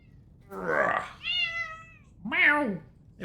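A house cat gives three distinct meows in a row, close and clear, with short pauses between them in a quiet room.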